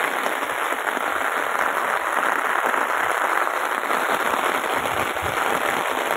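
Heavy monsoon rain pours down steadily, a dense, continuous hiss of drops beating on surfaces with scattered louder splats, close and unbroken throughout.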